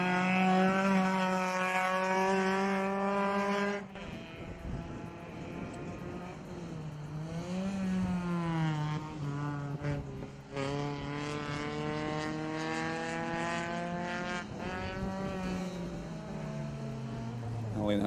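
Rallycross cars racing at Laitse Rally Park in Estonia during a Latvian-Lithuanian championship round, engines droning and shifting pitch continuously as cars lap the circuit, with a commentator talking over the loud racing noise throughout.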